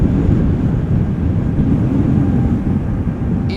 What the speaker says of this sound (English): E2 Embraer taking off from 18 left.